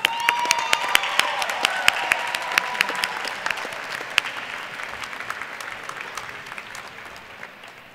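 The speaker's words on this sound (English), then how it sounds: "Please join me in a round of applause." An audience at a college diploma and awards ceremony applauds steadily, with a few sharp individual claps standing out near the front and a faint voice briefly audible before the clapping slowly thins out.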